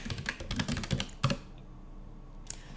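Typing on a computer keyboard: a quick burst of close key clacks for just over a second, followed by near quiet and a single later keystroke.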